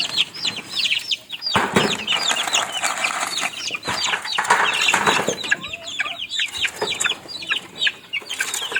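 Backyard-bred chickens cluck and chatter busily at feeding time, a dense close chorus of overlapping calls broken by bursts of wing flapping.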